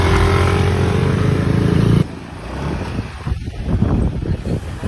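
A motorcycle with a CVT transmission is test ridden, its steady engine drone close and continuous, then dropping in level partway through as wind noise rushes over the microphone, with no talking.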